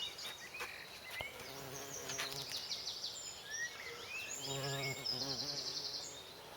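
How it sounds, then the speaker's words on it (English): A bumblebee buzzes around columbine (Aquilegia) flowers in a cottage garden in Ireland, its drone rising and falling as it moves between blooms, with faint birdsong in the background. "Look at that beautiful bumblebee."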